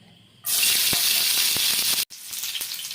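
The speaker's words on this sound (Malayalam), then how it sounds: "എണ്ണ ചൂടായിട്ടുണ്ട് നമുക്കിനി ഇതിലേക്ക് ഇതെല്ലാം ഇട്ടൊന്ന് വഴറ്റിയെടുക്കാം" Ginger, garlic and green chilli dropped into hot oil, bursting into a loud, close sizzle that holds steady, breaks off for an instant, then resumes slightly softer with faint stirring clicks.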